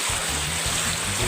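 River water rushing steadily in a broad, loud wash outdoors, with a low rumbling undertone and no pauses.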